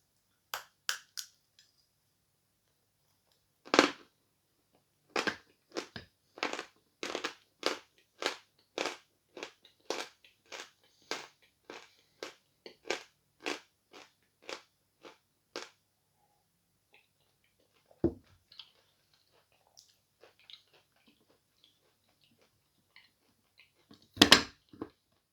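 Sawn chalk is bitten and crunched up close, first in a few sharp cracks, then in a quick rhythmic run of crisp crunches, followed by sparse quieter chews and one last loud crack.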